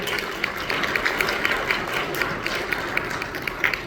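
Guests at a fundraising dinner clapping in a modest round of applause, scattered sharp claps over room murmur and chatter.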